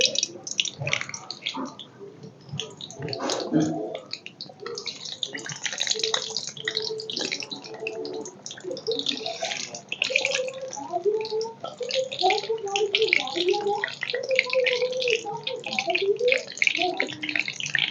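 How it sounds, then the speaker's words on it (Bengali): Luchi puffed flatbreads fry in hot oil for a festival vegetarian meal, giving a steady crackling sizzle that runs throughout with a tonal background. "তেল গরম হয়ে গেছে লুচিগুলো এখন ভেজে নেব"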